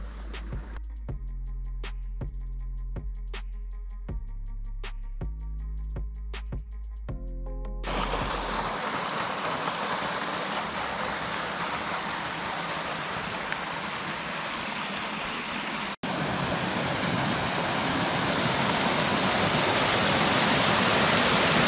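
Water rushes through the Torrent Neuf irrigation channel in Savièse, a loud and constant roar close by that takes over after a few seconds of piano music and continues without speech.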